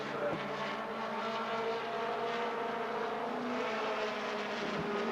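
Modified mini stock race cars roar around a speedway oval, a steady continuous engine drone with no breaks, heard from a distance with faint crowd and commentary mixed underneath.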